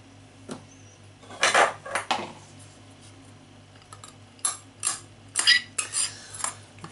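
A spoon clinks and scrapes against a bowl while cheese, blanched potato and onion pasty filling is mixed, giving irregular close metallic knocks and scraping bursts with quiet pauses between.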